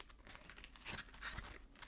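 A watermelon-flavoured Peep marshmallow, sugar-coated and lime green, being crumpled close up, giving soft crinkly rustles with a couple of louder crunchy bursts in the middle.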